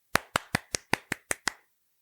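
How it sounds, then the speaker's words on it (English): Eight sharp hand claps come in a quick, even rhythm, each crisp and close with a short decay, then stop into silence. "Hand clap, chef's kiss."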